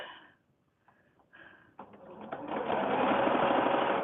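A sewing machine stitches a foundation paper-pieced quilt block, starting with a few short stuttering bursts and then running in one steady, close whirring run, no talking.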